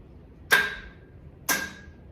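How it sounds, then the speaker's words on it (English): A truck's starter solenoid clicks twice during an engine swap, two sharp, close metallic clicks about a second apart in an otherwise quiet space. "All we're doing is just seeing if we can get that starter solenoid to click."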